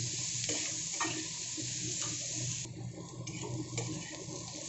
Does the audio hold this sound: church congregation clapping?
no